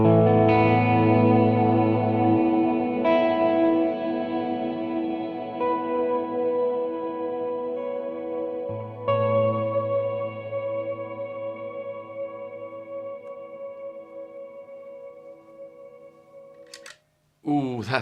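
Guitar played through a Mooer Ocean Machine pedal with shimmer reverb at full, sustained chords swelling into bright, octave-up washes that linger and decay, with a brief voice near the end.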